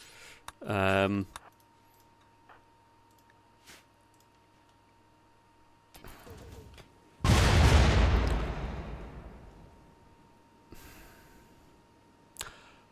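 Mortar shell slamming into a colony's own hospital in Rimworld: one loud broadband blast with a long fading rumble tail, after scattered small clicks and a brief chime-like burst earlier.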